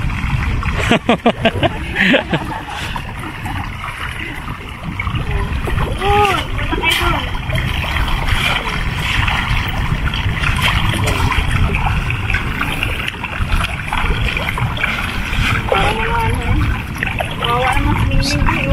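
Freshly harvested tilapia on a fish farm thrash and leap in shallow water, making dense, continuous splashing close by that keeps going throughout, with people talking over it.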